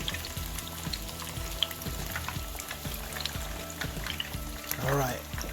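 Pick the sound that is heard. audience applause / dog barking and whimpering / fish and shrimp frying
fish and shrimp frying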